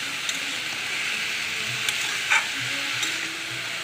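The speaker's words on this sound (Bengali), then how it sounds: "কড়াইয়ে তেল দিয়ে কালো জিরে, শুকনো লঙ্কা, তেজপাতা দিয়ে দিয়েছি।" Nigella seeds, dried red chillies and a bay leaf frying in hot oil in a kadai give a steady close sizzle and crackle, with a few brief spatters and the scrape of stirring, and no voices.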